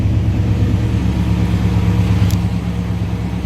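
A 1957 Chevrolet Bel Air two-door hardtop with a 350 V8 and an Edelbrock carburetor idles steadily, a smooth, even low rumble with a regular pulsing beat, close and continuous throughout.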